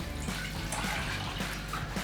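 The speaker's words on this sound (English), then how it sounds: "2 cups of water, which we've actually already measured out. So I'm going to pour that into there." Two cups of water poured into a cooking pot for rice, a steady close splashing and trickling stream lasting about two seconds, with no talking.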